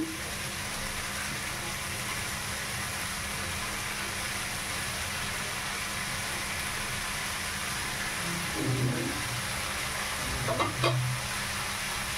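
Boiled potatoes go into a frying pan for ghugni, a constant soft sizzle with a few stirring clatters near the end, no talking.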